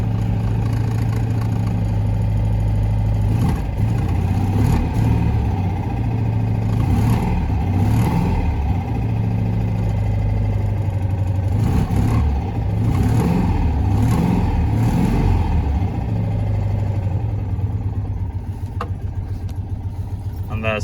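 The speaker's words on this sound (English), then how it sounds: "Little 2-cylinder engine, rocking side to side." A Citroen 2CV's little two-cylinder engine idling after a cold start, a low steady chugging hum with a few brief blips of revving, close and constant throughout, with a voice talking over it at times.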